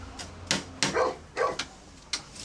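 A dog barks in short, sharp bursts, about five or six yaps spread unevenly over a couple of seconds, fairly close and moderately loud.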